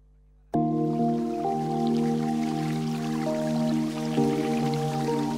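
Water dripping in a water company's sponsorship advert: a sudden start into a steady, full layer of liquid sound with tonal, musical ringing, sustained loud and close with no voices.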